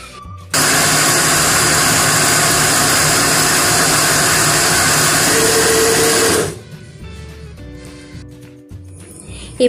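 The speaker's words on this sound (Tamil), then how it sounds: "இப்ப நான் கிரைண்டர்ல உளுந்தையும் வெந்தயத்தையும்" A wet grinder churns soaked urad dal and fenugreek seeds for dosa batter, a loud steady motor whir with grinding rasp that runs for about six seconds, then cuts off leaving quieter clinks and faint background noise.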